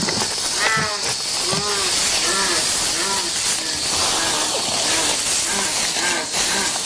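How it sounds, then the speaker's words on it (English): A recorded jaguar call plays from an MP3 player and speakers into the Amazon rainforest, heard as a series of repeated rough, bleating calls over a loud, steady hiss of jungle insects and background noise. "An MP3 player and speakers broadcast a jaguar call into the jungle."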